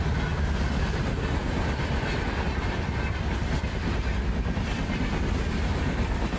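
Two old Alco diesel locomotives pass on a Pakistani railway line, making a loud, continuous rumble with rail clatter that fills the whole stretch without letting up.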